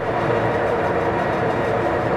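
Amtrak's California Zephyr runs through a tunnel, a loud, dense, continuous roar of wheels and rail heard from inside the train, with no pauses.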